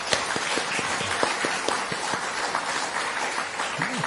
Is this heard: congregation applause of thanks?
yes